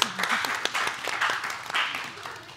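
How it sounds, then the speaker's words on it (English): Group of attendees at a workshop session gives themselves a short round of applause, a brief burst of clapping with scattered voices mixed in. "give yourselves a round of applause."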